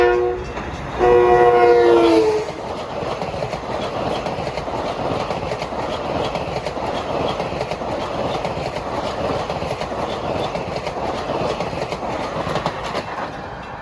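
Long Island Rail Road diesel train at Bethpage during the evening rush: a loud horn blast of about a second and a half, then the steady rumble and clatter of the train rolling past at close range.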